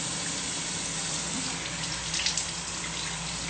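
Water runs steadily from a tap into a sink during face washing, a close and constant gush with faint splashing from hands near the end.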